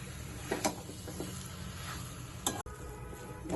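Chicken bharta cooks in a pan over a gas flame, a soft, steady sizzle with occasional stirring scrapes and clinks, quiet and close.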